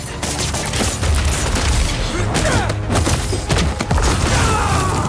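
A flashbang goes off amid chaotic combat in Marvel's Spider-Man 2 on New Game+ ultimate difficulty, a loud dense burst of booms and rapid gunfire-like cracks that fills the whole stretch, with no talking over it.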